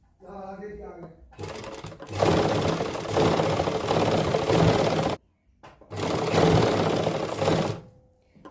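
Sewing machine stitching lace onto the slit and hem of a suit, running in two long, loud whirring bursts separated by a short pause, with a brief voice speaking before the first run.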